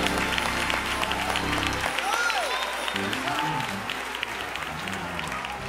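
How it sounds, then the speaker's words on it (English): A church congregation claps its hands in praise during a sermon, steady clapping mixed with voices and crowd noise at a fairly constant level. "Clap your hands and give him the praise"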